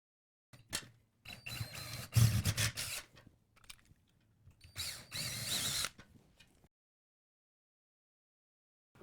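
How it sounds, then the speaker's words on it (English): A power drill whirs in several short bursts of varying length while assembling a sewing machine table, separated by pauses and mechanical clicks, ending in silence. "Now we just need to drill the holes, same like we did on the other side."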